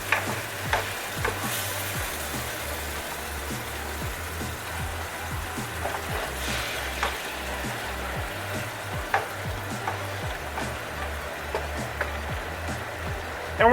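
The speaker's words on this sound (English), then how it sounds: "we're going to go ahead and deglaze our pan with half a cup of our white wine." Half a cup of white wine deglazes a hot pan from chicken piccata, giving a steady, close sizzle and bubbling hiss that runs throughout, with faint clinks of stirring on top.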